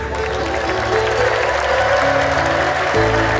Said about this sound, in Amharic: ጭብጨባው ይድመቅለት፣ እልልታ ይሁንለት